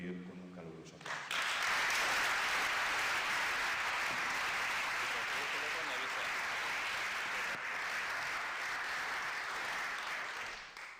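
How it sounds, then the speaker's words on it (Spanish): Warm, sustained applause from an audience welcoming speakers to a talk on mediumship and self-knowledge, steady dense clapping for about ten seconds after a brief voice at the start, fading slightly at the end. "que vamos a recibir con un caluroso aplauso"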